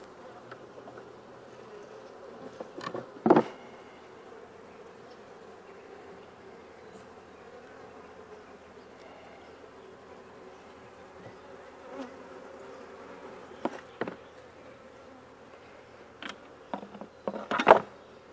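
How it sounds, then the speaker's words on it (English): Bees buzzing around hive frames after a swarm, a steady low drone of many insects close by, broken now and then by a single bee passing louder near the listener. "there's still quite a few bees in here"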